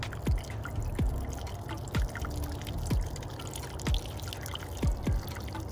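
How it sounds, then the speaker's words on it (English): Water poured into plant soil at a dragon fruit plant, entering a spiral watering device that carries it deeper; steady close pouring and dribbling with a soft, regularly repeating drip-like plop about once a second, no talking. "So the water's gonna go in."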